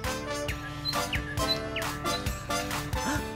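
Cartoon birds chirping on a sunny day, a series of bright repeated tweets and rising whistles over a soft tonal music bed, evenly spaced and close.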